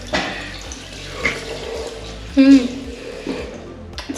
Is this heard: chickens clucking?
no